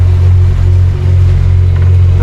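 A boat's diesel engine drones steadily under power on one engine, a loud, continuous low rumble with a constant hum and no pauses.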